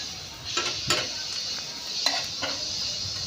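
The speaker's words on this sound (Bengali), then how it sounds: "প্যানে করে তেল দিয়ে একটু পেঁয়াজ, লঙ্কা, একটু লবণ, একটু হলুদ দিয়ে একটু ভাজা করে নেবে।" Onion, chili, salt and turmeric fry in oil in a pan, a steady low sizzle broken by several sharp metallic clinks of a spatula stirring against the pan; no one speaks.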